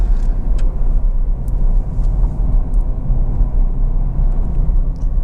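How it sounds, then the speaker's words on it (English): A Ford Fiesta 1.4 TDCi diesel engine runs at a low, steady idle, a close, even rumble with a few faint ticks and clicks above it. "engine starts absolutely instantly and settles to a completely smooth, even idle"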